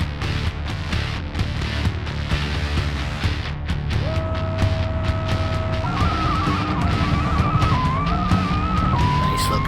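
A supercharged Moonhawk tears down the strip on a drag run in BeamNG, its engine roaring loud and steady while whining tones rise and step up through the gears.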